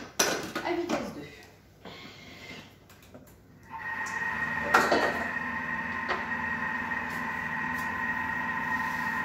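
A stand mixer whisks egg whites at speed 2, starting after a few seconds of kitchen clatter and then running as a steady, even motor hum with a whirring whine until the end.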